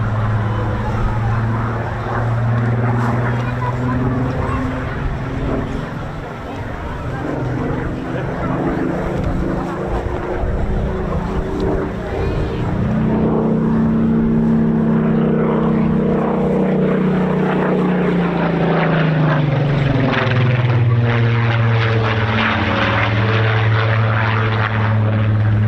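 Propeller engines of a WWII de Havilland Mosquito and the Avro Lancaster Just Jane roar steadily during taxi runs at East Kirkby, a loud sustained drone whose pitch swells and falls as the aircraft pass close by.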